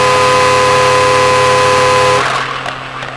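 A car horn blares in one loud, sustained, steady honk for about two seconds before cutting off, leaving faint engine rumble.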